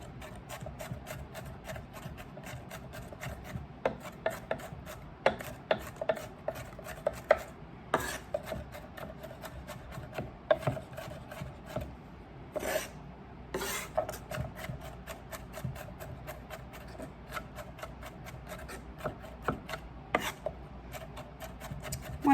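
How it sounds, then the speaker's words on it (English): A knife chops half an onion finely on a cutting board for chicken spaghetti, giving a rapid, uneven run of close, crisp taps and board knocks over nearly half a minute, with no talking. "Want to give them a nice chop here"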